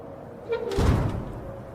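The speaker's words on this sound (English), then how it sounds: "we closed the door with such tremendous force here" A door slams shut with great force in the RoadCraft video game, a single heavy, booming thud that rises and then fades over about a second against a low background.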